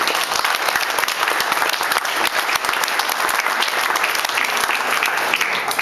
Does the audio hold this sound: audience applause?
yes